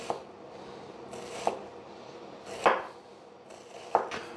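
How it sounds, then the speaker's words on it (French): A knife chops an onion finely on a cutting board, several crisp thuds spaced about a second apart, close and clear over faint background noise. "on essaye de couper notre oignon assez fin."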